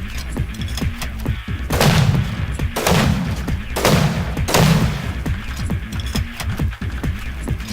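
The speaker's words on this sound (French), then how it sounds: "il faut bien 12 roquettes pour enlever cette triple fondation" Rockets blasting a triple base foundation in Rust, a series of loud heavy explosions roughly a second apart over a constant rumbling background, close and forceful.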